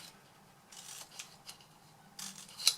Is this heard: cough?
no